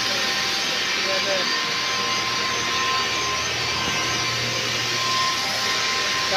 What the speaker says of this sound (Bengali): এটা ওটা রিপ মেশিন, 1x1 কাপড়,